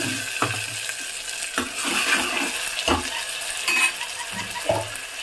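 Ground tomato paste goes into onions frying in a pan for bitter gourd gojju, bringing a soft wet sizzle with repeated spoon scrapes and stirring clinks at an uneven, unhurried pace, with no talking.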